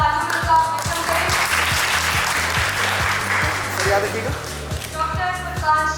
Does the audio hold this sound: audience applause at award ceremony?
yes